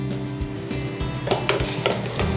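Small baby potatoes being turned over in a pan of simmering soy sauce braising liquid, steady bubbling sizzle with a few wet stirring scrapes and spoon knocks, close and alone without talking.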